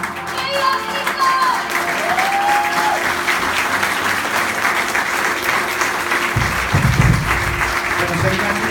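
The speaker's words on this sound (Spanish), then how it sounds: "Un aplauso para Jesús." Steady, dense applause fills a hall at a national youth pastoral gathering in Argentina, continuous and fairly loud. A few voices call out over the clapping, and there is a low rumble toward the end.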